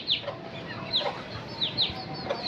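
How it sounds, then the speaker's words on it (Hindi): Hens and chicks clucking in a cage, with several short, sharp high-pitched chirps and clucks spaced through the clip over steady low background noise. "वो मुर्गी वहाँ पर जा रही है।"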